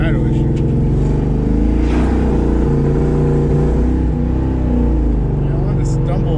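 A nitrous-injected New Edge car engine revs and then stumbles, a loud, close, continuous running note that rises and dips unevenly, with low voices mixed faintly underneath.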